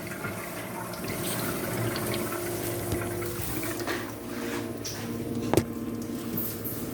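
An endoscope washer purges water and air through a scope, producing a steady hiss of flowing water and pump noise. A sharp clunk breaks in near the end.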